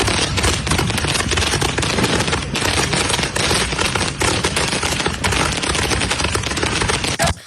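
Fireworks set off right beside homes crackle in a dense, relentless barrage of rapid bangs, loud and close, with barely a gap in the volley.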